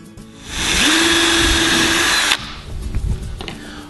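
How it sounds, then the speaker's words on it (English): A power drill spins up and runs steadily for about two seconds with a high whine, then stops, followed by rattling handling noises close by. "we're actually going to pre-drill these holes"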